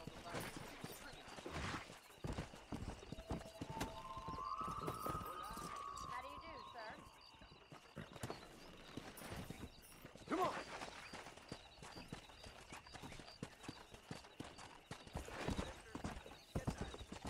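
Horse hooves clip-clopping at a steady gallop in the Western open-world game Red Dead Redemption, a continuous rhythmic patter under game sounds, with a brief whinny and people talking over it.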